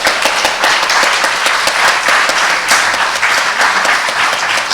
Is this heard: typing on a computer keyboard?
no